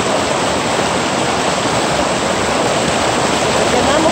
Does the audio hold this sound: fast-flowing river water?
yes